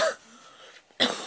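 A single harsh cough followed by a pause and a second rough cough, close up, with no talking.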